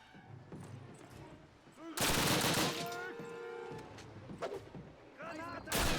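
Machine gun turret fire in a Call of Duty battle, loud sustained bursts of automatic gunfire in two long stretches, with shouted voices and scattered shots between them.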